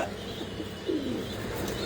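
A pigeon coos softly once amid quiet background ambience at a pigeon farm, with no other voices.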